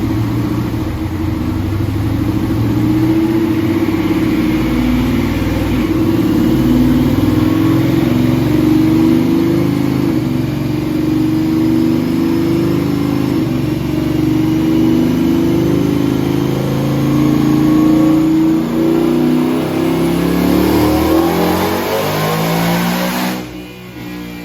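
A supercharged Ford F150 pickup strapped to a dyno revs in fifth gear, a loud engine roar climbing steadily in pitch over about twenty seconds before suddenly cutting off at the end, with no voices over it.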